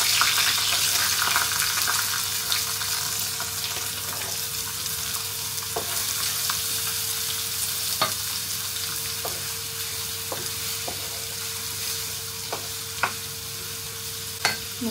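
Onions frying in a pan give off a loud, continuous sizzle, with occasional light clicks from stirring.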